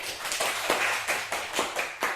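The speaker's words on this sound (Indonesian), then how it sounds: "tepuk tangan untuk Pien" A classroom of students clapping for a classmate, brisk rhythmic hand claps repeating quickly and evenly over two seconds, close and fairly loud with no talk.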